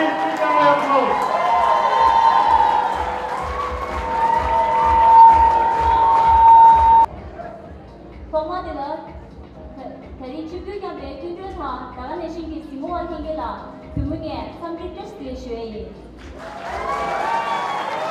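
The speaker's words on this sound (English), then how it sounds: "please give them a applause" Audience at the Miss Tibet 2011 pageant talk round applauding and cheering for about seven seconds, then the clapping gives way to a speaker talking over a quieter hall.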